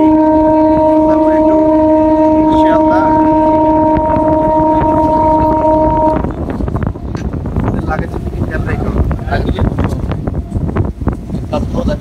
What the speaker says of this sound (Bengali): ট্রেনের স্পিড মোটামুটি বাড়ছে।